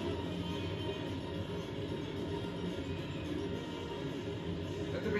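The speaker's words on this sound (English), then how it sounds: "the train going in the loop-de-loop" Mine cart rumbling steadily along its track in the Donkey Kong Country Returns cave level, a dense continuous roll of game sound with no break and no voices.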